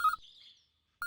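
A telephone rings in two short electronic bursts with a faint tone between them, quiet and close.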